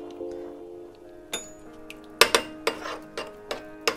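A utensil clinks against a bowl while egg yolks are mixed with crème fraîche, a series of sharp, close taps in an uneven rhythm, quiet between strikes.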